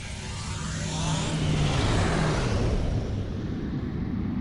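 A starship in Star Trek Online enters quantum slipstream with a loud, sustained roaring rush that swells into a broad whoosh and holds steady, with no voices over it.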